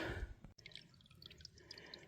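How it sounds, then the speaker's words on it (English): Water dripping at a trail water source in coastal rainforest: after a brief sharp knock, a scatter of quick, light drips patters irregularly nearby over a soft watery background. "It's a water source."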